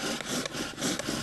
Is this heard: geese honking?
no